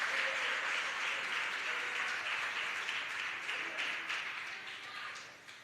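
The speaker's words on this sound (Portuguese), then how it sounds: "Isto, palmas e glória para o nosso Jesus." A church congregation applauds during a Lord's Supper service, a dense, steady wash of clapping from many hands that stays strong and slowly fades toward the end, with faint voices mixed in.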